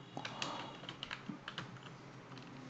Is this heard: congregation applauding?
no